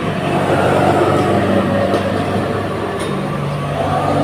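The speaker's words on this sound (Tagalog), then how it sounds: "Ingay ng mga sasakyan dito pag umaga." Morning vehicle traffic rumbles steadily past a residential street, a continuous low engine drone with passing cars and heavier vehicles, fairly loud and close, with no talking over it.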